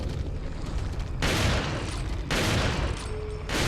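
A shotgun fires in Resident Evil 4 during a box fight, three heavy, booming blasts spaced about a second apart, each with a long rumbling tail over dense game background noise.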